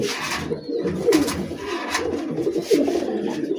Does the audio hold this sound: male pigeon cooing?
yes